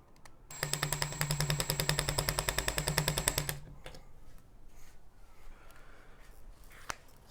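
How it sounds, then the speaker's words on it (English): A power drill with a 2mm bit whirs loudly for about three seconds drilling pilot holes in a Subaru WRX trunk lid, a rapid buzzing rattle, then cuts off, leaving faint handling clicks and shuffling. "I am going to just pilot these holes using a 2mm drill bit"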